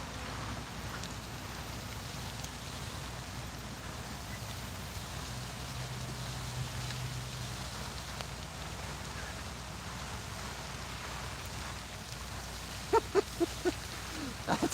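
Steady rain falls outdoors during a fishing outing, a soft constant hiss at low level with a few sharp taps and knocks near the end.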